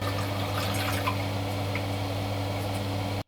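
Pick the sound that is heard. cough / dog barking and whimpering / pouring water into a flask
pouring water into a flask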